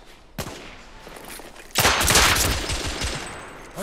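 Gunfire from the Victorian-era shooter The Order: 1886: a short burst near the start, then a sustained, loud fusillade of overlapping shots from about the midpoint onward, with no talk.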